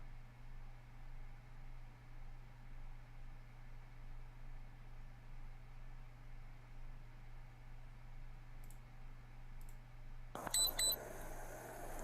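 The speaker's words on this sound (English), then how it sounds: "Always with the fucking beeps." A few faint electronic camera beeps over steady background hiss, followed by a brief, brighter burst of tones near the end.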